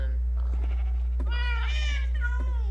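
Farm animals in a Minecraft barn, with a wavering bleat rising over a steady low hum and a few soft clicks and taps from the game.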